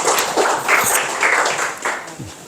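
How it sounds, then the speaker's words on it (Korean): A church congregation at a Sunday service claps briefly to welcome a missionary, the applause uneven and loud, rising and falling in waves. "여러분 뜨거운 박수로 환영해 주시고"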